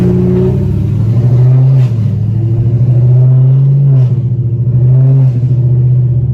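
A loud Camaro ZL1 engine with Kooks long tube headers and intake revs hard in repeated surges, a deep throaty roar that climbs and falls several times with crackling overtones, close and continuous.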